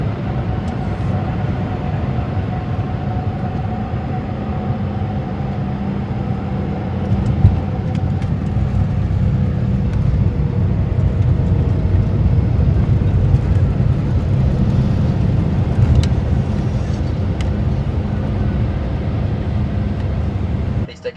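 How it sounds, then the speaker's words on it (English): Inside the cabin of a passenger airliner landing at Schiphol, a loud, steady engine and airflow roar fills the space, rising slightly as the plane touches down, with faint voices underneath. "touchdown coming right up"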